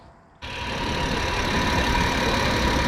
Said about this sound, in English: Car is on, and we are just bleeding the system right now.